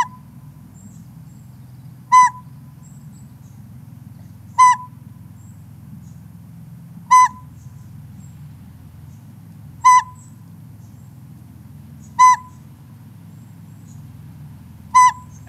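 Recorded call of a northern pygmy owl: single clear whistled toots repeated at a slow, steady pace about every two and a half seconds, over a low hum.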